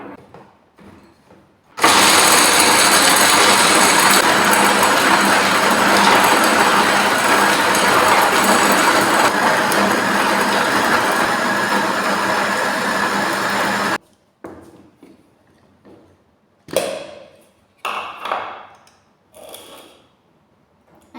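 Mixer grinder whirring loudly as it grinds almonds into a sweet mixture, a steady harsh roar of about twelve seconds that cuts off abruptly, then short bursts and clatter.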